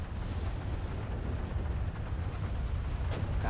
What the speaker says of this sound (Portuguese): Caraca, tá chovendo demais, moleque.